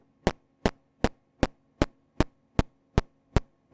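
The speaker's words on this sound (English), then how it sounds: "a bit of a raspy sound. You can hear it kind of pitch going down" Drum module hits repeating evenly about every 0.35 seconds, each a short, raspy, punchy burst from a synth drum voice, loud and close with a faint steady hum underneath.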